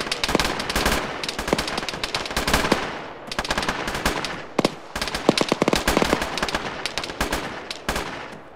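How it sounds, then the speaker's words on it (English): Loud, dense gunfire from the video game Arma 3, with rapid automatic bursts and overlapping shots crackling almost continuously and only brief gaps between them. "The first shots are in low."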